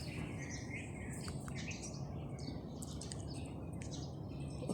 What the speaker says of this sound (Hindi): परिंदों की आवाज़ बहुत भली महसूस हो रही है।